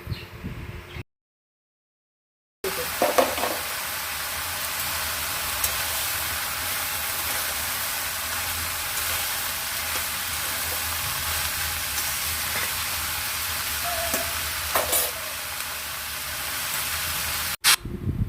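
Bottle gourd and potato frying in a pan with ginger paste, a loud steady sizzle and hiss with occasional stirring clatter, briefly cut out near the start.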